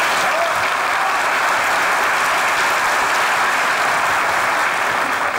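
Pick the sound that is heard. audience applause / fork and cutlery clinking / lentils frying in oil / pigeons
audience applause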